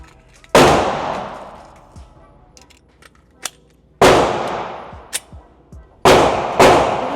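Three loud, sharp gunshots from a .308 rifle with an 8-inch barrel and a muzzle brake, each a sudden blast with a long ringing decay, spaced irregularly with quiet gaps and small clanks between.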